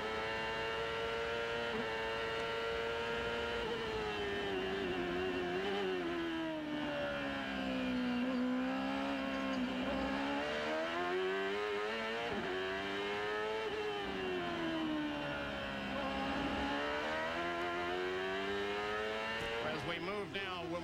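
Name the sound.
onboard race car engine shifting up gears, 1996 CART race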